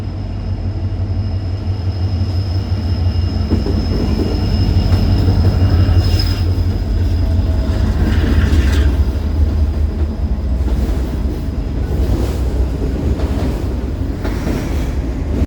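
Freight train led by locomotive 2693 rolling past, a continuous low rumble of engines and wheels with intermittent clanks and rail squeals, close and steady, no voices.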